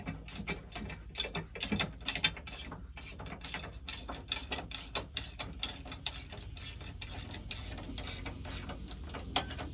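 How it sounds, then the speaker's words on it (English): A wrench tightening the leg bolts on a Laserball pinball machine makes irregular bursts of close ratcheting clicks and metallic rubbing, with brief pauses between turns. "It's a 5/8 inch wrench you need for the leg bolts and 9/16 for the head."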